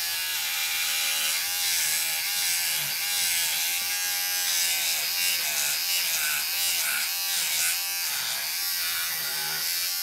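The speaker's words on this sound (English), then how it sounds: "you can also use a beard trimmer" An electric beard trimmer clipping fur from a hare's ear for fly-tying dubbing hums in a close, continuous buzz, its pitch wavering slightly as it cuts, with no voices.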